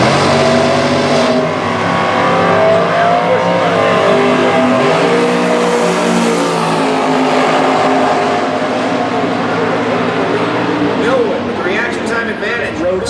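Drag racing at Indy pits a 2005 Cavalier with a 632 engine against a 1967 Nova roadster, loud engines roaring and revving under an announcer talking over the track noise.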